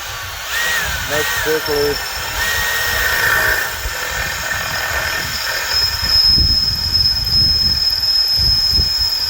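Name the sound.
drilling holes in aluminum tool holders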